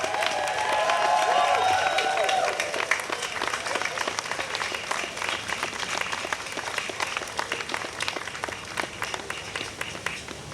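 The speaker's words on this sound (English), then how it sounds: "let's give them all a round of applause" An audience at a freedom celebration concert applauds the armed forces, dense clapping strongest for the first few seconds and then easing into steadier, thinner clapping with some crowd noise.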